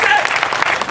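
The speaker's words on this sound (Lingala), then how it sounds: "Acclamez encore pour le chef de l'État" A crowd at a political rally bursts into brief, loud, close applause for the head of state, a dense wash of clapping lasting under a second.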